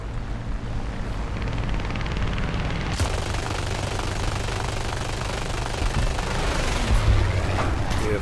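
Aircraft machine-gun fire in War Thunder air arcade, a C.R.714 fighter in combat, continuous rattling bursts over a loud engine roar with a sharp crack near the start.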